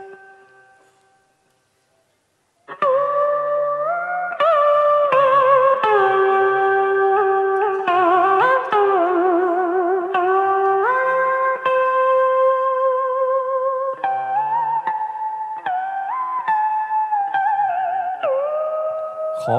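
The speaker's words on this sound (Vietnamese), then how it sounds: "thử gảy một vài cái nét nhạc dân gian Việt Nam đi" A plucked string instrument plays a Vietnamese folk melody on a stage show, clear sustained notes with bends and slides rising and falling after a short silent opening, alone and close.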